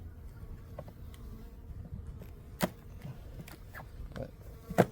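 Honey bees robbing a hive in a backyard apiary: a soft, steady insect buzz fills the air, with a few sharper, louder buzzes as individual bees fly close past.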